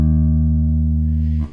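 Open, unmuted bass guitar note in a groove, one loud close low tone sustaining evenly for over a second before a quick cutoff with a faint string noise.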